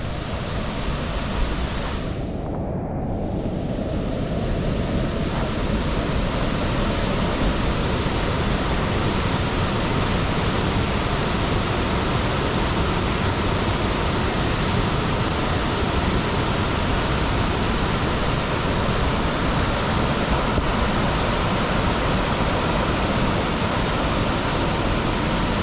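Bheemeshwara waterfall roars in a dense, unbroken wash of falling water, loud and close for the whole stretch with no voices over it.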